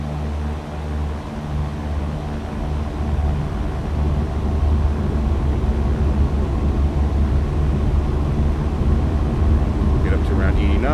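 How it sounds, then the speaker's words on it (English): A simulated airplane taking off from runway 32 in the X-Plane 11 flight game, a loud steady engine roar with broadband rumble that builds slightly over the run, heard close and continuous. "I'm gonna take off here from runway 32, and so you can see some frame rates as I fly around"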